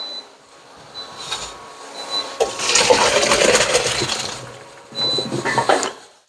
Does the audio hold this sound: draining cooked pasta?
yes